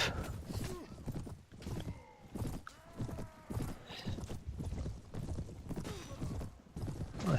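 Horse hooves clopping in the video game Prophesy of Pendor, a fairly quiet, uneven run of hoof strikes over several seconds, with a possible whinny and faint talk mixed in.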